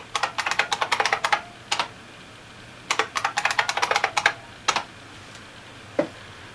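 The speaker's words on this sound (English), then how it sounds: "We'll type in a new password." Keys clatter on a computer keyboard as a new password is entered during a Raspberry Pi setup, two quick bursts of close, crisp taps separated by a pause, then a few single keystrokes.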